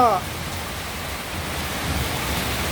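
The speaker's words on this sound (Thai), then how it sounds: "ฝนมันฝนมันตกตกตกหนักมาก" Heavy, unceasing rain pouring down outside a house with flooding in front, a dense, steady hiss filling the whole stretch at fairly loud level.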